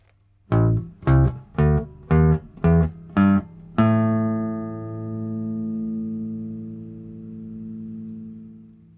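A bass guitar plays a full scale slowly, with seven evenly spaced plucked notes, each muted briefly before the next, and the last note left ringing and slowly fading, heard alone.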